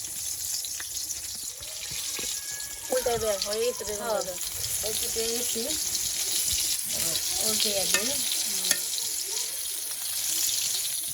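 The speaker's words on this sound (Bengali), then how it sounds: "বেগুন ভাজা শুরু করে দিয়েছে।" Eggplant slices fry in a pan with a steady background sizzle, while voices talk over it in short bursts and a couple of sharp clicks stand out.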